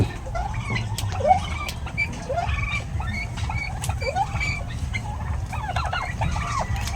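Several chickens cluck and chatter nearby, overlapping short calls and rising squawks over a low background hum, with no one talking.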